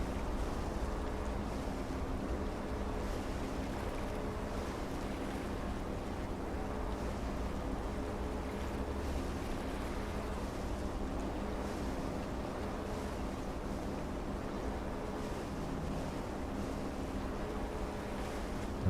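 Boat engine running in Seafarer: The Ship Sim, a steady low droning rumble mixed with water and wind wash, constant and unbroken throughout.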